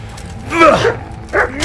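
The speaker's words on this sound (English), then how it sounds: "Get off me, you fucking dog!" An attacking dog in the medieval action game Kingdom Come: Deliverance gives a few sharp yelps and a short growling bark over a steady game background, with a voice reacting loudly around it.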